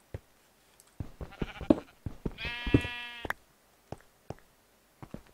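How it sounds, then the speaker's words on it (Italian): Sheep in the video game Minecraft bleating, a few short wavering baas from nearby amid scattered clicks and soft game noises. "Però sento le pecore."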